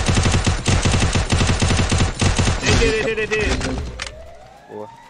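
Rapid bursts of automatic gunfire from the Free Fire battle royale game crack in quick succession, loud and close, then thin out into a few single shots with game effects and voices as it ends.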